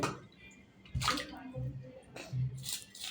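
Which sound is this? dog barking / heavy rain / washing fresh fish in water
washing fresh fish in water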